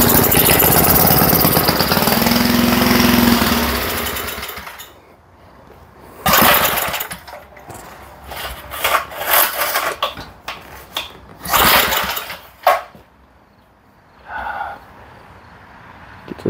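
1970s Massey Ferguson 253 rototiller engine, stubborn with a gunked carburetor: it runs roughly for about four seconds, dies, then sputters in short irregular bursts as it tries to catch.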